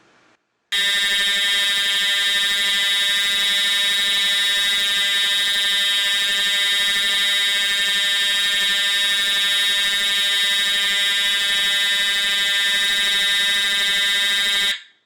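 A smoke alarm blares in one continuous, steady high-pitched tone, loud and close, holding unbroken for about fourteen seconds before it cuts off.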